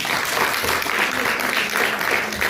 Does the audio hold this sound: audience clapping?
yes